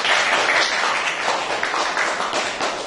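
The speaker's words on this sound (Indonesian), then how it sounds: "Oke, tepuk tangan untuk kelompok 1." Classroom applause for a student group after their presentation, a short, loud burst of many hands clapping close by, sustained and steady throughout.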